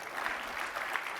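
Brief burst of audience applause from a conference crowd at a tech session, a dense steady patter of clapping lasting about a second with no talk over it.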